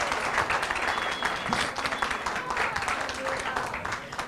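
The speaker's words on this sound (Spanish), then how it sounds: "Aplaudan por lo menos, hombres y mujeres." Steady applause from a church congregation, dense clapping running throughout with a voice faintly mixed in.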